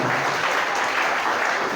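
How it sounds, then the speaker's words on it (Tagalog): A crowd gives a round of applause in honour of mothers, a dense, even wash of many hands clapping at once that holds steady and loud throughout, with no voices over it. "Palakpak para sa kanila."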